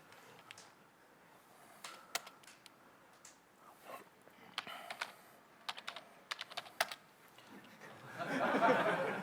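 Keys on a computer keyboard tapped in scattered, irregular clusters of soft clicks, fairly quiet and close, followed by a brief murmur of people talking near the end.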